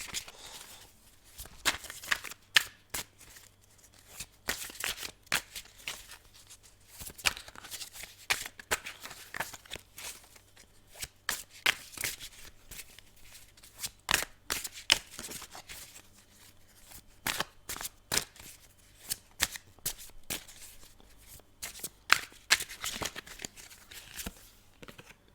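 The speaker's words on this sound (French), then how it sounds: "je vais recouvrir ces cartes" Tarot cards being handled and shuffled in a rapid series of crisp riffles and slaps, close and fairly quiet, running nearly throughout with brief pauses and no speech.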